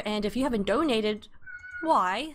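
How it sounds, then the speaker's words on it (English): A cat cries and meows in the background, clearly audible but under a man's speech. The longer wavering calls come near the end. "I don't know if you can hear my cat crying in the background"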